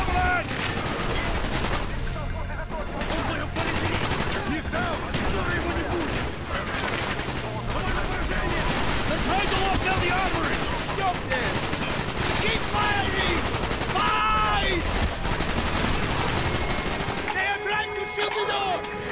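Rapid gunfire in Call of Duty: Black Ops, dense bursts of automatic shots and cracks rattling almost continuously amid loud game effects, with shouting voices mixed in.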